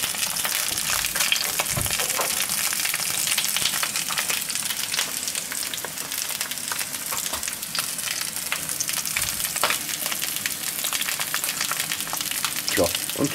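Bratwurst sausages fry in a pan beside sauerkraut, a steady dense sizzle and crackle running loud and continuous with occasional pops and stirring.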